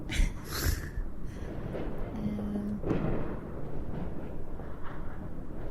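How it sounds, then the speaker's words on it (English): Distant fireworks thump and rumble in a low, muffled series of booms, with a faint tonal hum partway through. "as you may be able to hear in the background, we are having mucho fireworks tonight"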